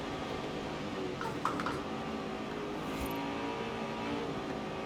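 Interior engine and intake buzz from a BMW M3 GTS in the Forza Horizon 4 racing game, a steady loud drone held at constant pitch throughout with no voices.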